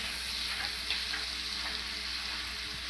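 Onions sizzle steadily in hot oil in a pan, cooking until browned: a close, continuous hiss with faint crackles and no voices throughout.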